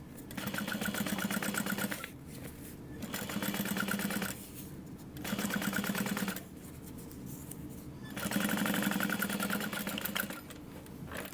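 A sewing machine top-stitches along the folded top edge of a tote bag in four steady bursts of rapid whirring, separated by short quiet pauses, close and clear.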